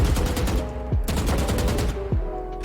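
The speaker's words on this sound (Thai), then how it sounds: "เดี๋ยวเราจะซื้อปืน แล้วก็ยิงให้ดูว่ามันแบบรุนแรงขนาดไหน นี่เวลายิงธรรมดานะคะ" Normal gunfire in the Valorant video game: a rapid, loud, continuous burst of shots in a fast rhythm, with a couple of brief swooping tones and no speech over it.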